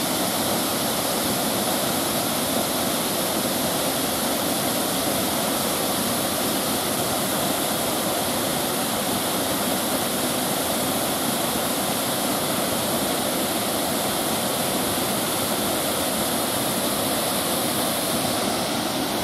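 Steady, dense roar of falling water at the San Fele cascades, a continuous broadband rush close by with no break or voices throughout.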